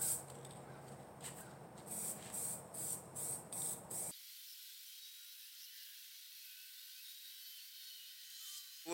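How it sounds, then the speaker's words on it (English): Pulsed hissing bursts from an aerosol spray can spraying paint onto fabric on a table, several short sprays in a row, followed by a steady broadband hiss until the end. "let's throw it on the table and spray"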